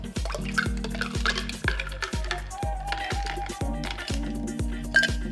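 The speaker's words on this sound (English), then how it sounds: "Just give it a little stir." A spoon stirs a Dark and Stormy cocktail with Angostura bitters on top, giving repeated light clinks and swishes against the glass in a steady rhythm, close and fairly quiet, with faint tonal ringing between strokes.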